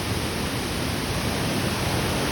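Krathing waterfall in Khao Khitchakut National Park, Chanthaburi, pours as a constant dense hiss of falling water, loud and close, with no talking over it.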